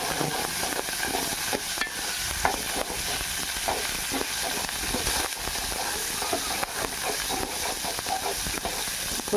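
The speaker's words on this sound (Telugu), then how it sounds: "ఫ్రై చేసుకున్నాం." Coriander leaves fry in hot oil for karam podi, producing a continuous, dense sizzle with light stirring scrapes, close and steady throughout.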